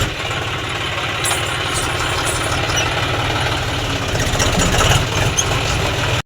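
A farm tractor idles in a village, its engine a steady low rhythmic chugging with a constant mechanical rumble and no voices.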